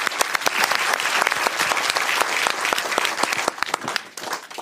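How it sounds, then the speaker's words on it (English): A live cinema audience at a film festival event breaks into loud, sustained applause, with many hands clapping densely for several seconds before tapering slightly at the end. "Give yourself a round of applause."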